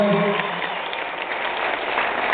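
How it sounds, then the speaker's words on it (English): Applause from a hypnotist show audience at a state convention, a steady, moderately loud wash of clapping that fills the whole stretch with a faint voice running beneath it. "Give a round of applause right here."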